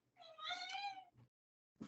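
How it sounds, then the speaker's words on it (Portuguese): A house cat gives one clear, drawn-out meow close by, followed by a short trailing chirp and a brief muffled rustle after a pause, in an otherwise quiet indoor room. "minha gata acabou de dar um miado aqui"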